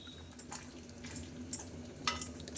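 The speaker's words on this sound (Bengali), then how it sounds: "এরপরেই এই ম্যারিনেট করে যে রেখেছিলাম মাশরুমটা, ওইটা এবারে দিয়ে দেবো" Marinated mushrooms go into hot oil in a home kitchen pan, producing a steady, close hiss of frying with soft stirring scrapes and a couple of light utensil clicks, no voices.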